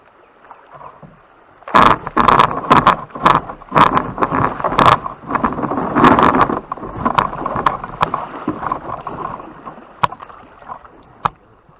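Canoe on the Little Muskegon River passing through small rapids among downed trees: a close sequence of knocks, scrapes and clunks against the hull in uneven bursts over running water, thinning to a few isolated bumps.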